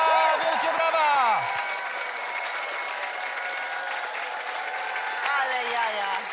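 A studio audience on the Polish TV game show The Brain applauds a winning contestant, a loud, sustained wash of many hands clapping together, with a voice speaking over it at the start and again near the end.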